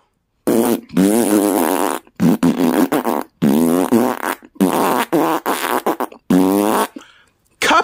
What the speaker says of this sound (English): Can you please stop farting?